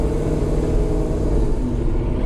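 Steady engine rumble and road noise from inside a moving car on a casual neighborhood drive, continuous and fairly loud with no talking.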